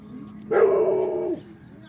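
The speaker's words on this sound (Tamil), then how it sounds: "பக்கத்து வீட்டில் ஒரு பெரிய நாய் ஒன்று இருக்குது" A single drawn-out bark, almost a howl, from a large dog rings out nearby in a garden and then stops, with quiet before and after.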